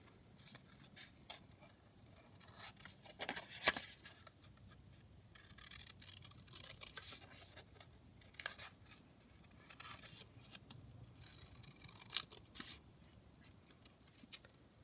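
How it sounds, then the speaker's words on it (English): Scissors snipping out paper images of vintage ladies for a digital kit, soft quiet irregular cuts and rustles close by, with occasional sharper clicks and no talk. "actually watching me cut the images"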